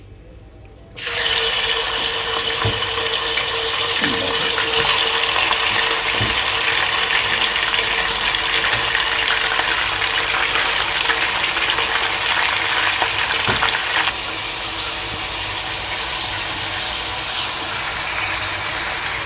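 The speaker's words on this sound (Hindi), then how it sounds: "इसको इसमें थोड़ा फ्राई करेंगे" One kilogram of chicken dropped into a hot pan for degh-style chicken korma, bursting into a loud, steady sizzle of frying that holds for the rest of the clip, with faint clinks of stirring underneath.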